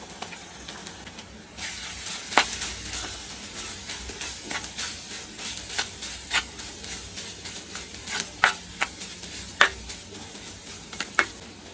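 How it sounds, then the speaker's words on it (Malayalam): Shallots sautéing in a pan with coconut mix for a jackfruit seed stir-fry, a steady close sizzle broken by sharp clicks and scrapes of stirring, alone without any voices. "കുഞ്ഞുള്ളി ഒന്ന് വഴന്നു വരുന്നവരെ നമുക്കൊന്ന് ഇളക്കി കൊടുക്കാം"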